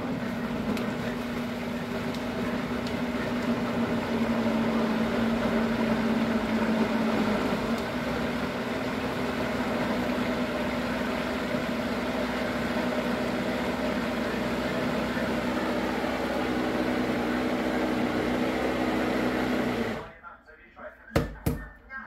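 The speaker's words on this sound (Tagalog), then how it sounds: "Nagbi-blender niya." A kitchen blender purees sweet potato soup in a steady, loud whirring drone that runs for about twenty seconds before cutting off abruptly, followed by a few brief clatters.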